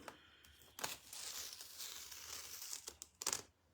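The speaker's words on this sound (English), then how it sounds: "So now we're going to peel this up." Something is peeled up off a surface with close, dry crinkling and tearing, in a few bursts over a few seconds with no talking.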